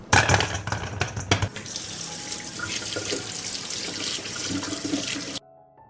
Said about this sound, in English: I will wash 2 kilograms of plums.